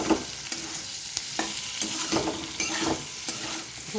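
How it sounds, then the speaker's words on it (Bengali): Onions frying with potatoes and garlic in a pan, a continuous sizzle broken by regular scraping stirs roughly every half second, close and fairly loud with no voices. "বেশ কিছুক্ষণ আলুটার সাথে পেঁয়াজটা ভেজে নেব"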